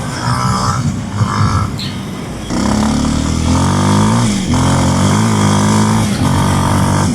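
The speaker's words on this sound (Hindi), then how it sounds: "this motorcycle can do damn off-roads" A Kawasaki KLX230 motorcycle riding off-road, its single engine droning close and loud, stepping up in revs and holding steady through gear changes with a constant mechanical hum.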